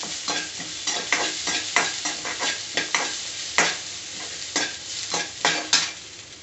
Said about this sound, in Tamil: அதையும் மிக்ஸ் பண்ணிக்கோங்க நல்லா வதக்கி விட்டுக்கோங்க வெங்காயத்தை